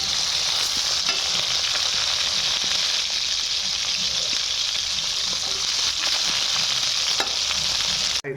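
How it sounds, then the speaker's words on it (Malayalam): Quail pieces frying in hot oil and being turned over, a loud, close, unbroken sizzle with occasional soft scraping and clicks from stirring, ending abruptly. "കാടയുടെ മറിച്ചാണ് ഗായ്സ്."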